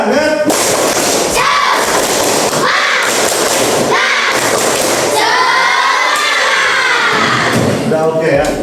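A classroom of students performs a spirit clap chant, shouting rhythmic syllables together in loud bursts with claps, a dense and energetic group sound held at high volume throughout.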